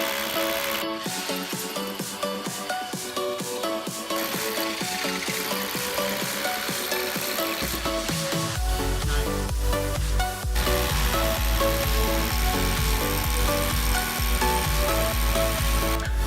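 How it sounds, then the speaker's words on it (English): A power drill grinds steadily into wood for a long stretch, loud and close, with the pitch and strain shifting partway through. "We got a better drill bit."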